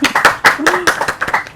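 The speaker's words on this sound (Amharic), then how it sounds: "እስኪ አጨብጭቡላቸው በደንብ ለሁሉም አንዴ" Audience at a parents-and-children quiz contest in Wolaita clapping in a quick, uneven patter of claps while a voice talks over it.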